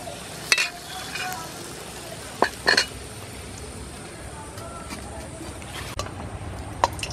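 Ripe mango pua pitha frying in hot oil over a lowered flame, giving a steady close sizzle and bubble with a few sharp clinks of a utensil against the pan.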